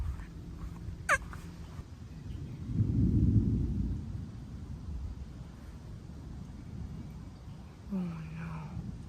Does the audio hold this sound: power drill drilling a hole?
no